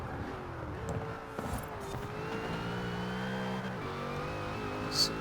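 A Ford GT and a Porsche race in the Forza Horizon video game, their engines droning steadily with shifting pitch as they rev and accelerate through corners, with a brief sharp squeal near the end and no talking.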